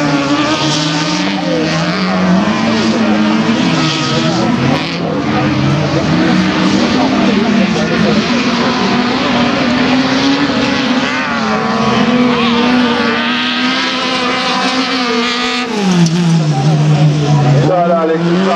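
A rallycross race car at an NAVC event roars through the joker lap, its engine note rising and falling continuously and loudly under an excited race commentator's voice.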